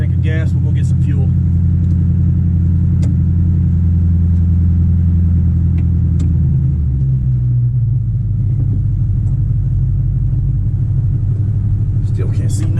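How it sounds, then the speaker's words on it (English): A 1966 Ford F250 truck with a new exhaust drives along with a loud, deep rumbling drone that shifts pitch as it changes speed, brief clicks and handling noises near the start and end, and no speech. "Anxious to see what this thing sounds like going down the road."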